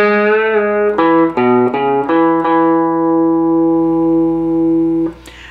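Electric guitar plays a short lead phrase from a song: several clean picked notes in quick succession, then a long sustained ringing note that fades, played alone and close.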